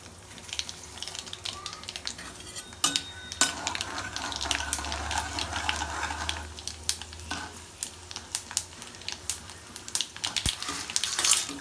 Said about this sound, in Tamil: கடுகு பருப்பு போட்டுடலாம்.